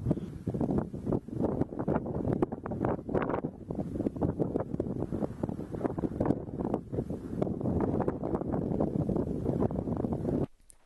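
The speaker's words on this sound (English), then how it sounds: "you can't hear me because of the wind" Strong wind buffets the microphone outdoors on the Isle of Skye at dawn, a continuous loud, rumbling roar with gusty fluctuations that swamps everything else before cutting off abruptly near the end.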